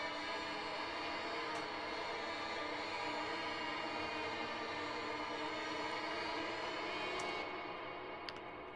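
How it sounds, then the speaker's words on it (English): Aleatoric, pitch-bending orchestral effects from a Westworld scoring-competition score: a dense, sustained cluster of overlapping tones holds steady as a fairly quiet wall of sound, with a few faint high clicks near the end and no voices. "I've got some sort of aleatoric pitch bending kind of things"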